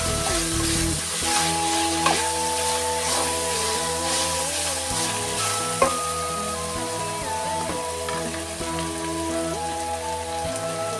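Homemade ginger garlic paste frying in a pan, a continuous close sizzle and crackle with occasional sharp pops and stirring scrapes, no voices.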